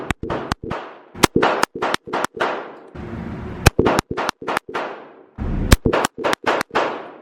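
Pistol shots from a SIG 365 and a Glock 42 at a range ring out in sharp, loud cracks, some in quick pairs and some spaced apart, each trailing a short echo, with no talking.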